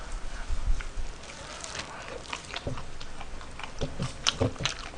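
Close, wet chewing and crunching of pork cartilage (odolppyeo) eaten by hand, with irregular crisp bites and squelches repeating throughout.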